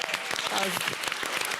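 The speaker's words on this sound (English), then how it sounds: "Can we give her another round of applause?" Audience at a female entrepreneur program event clapping steadily, a dense, fairly close round of applause with a brief spoken word over it.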